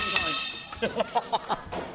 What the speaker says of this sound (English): there's the bell. Match number 4 underway here